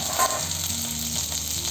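Okra (bhindi) sizzles steadily in hot oil, a close, continuous frying hiss with no voices.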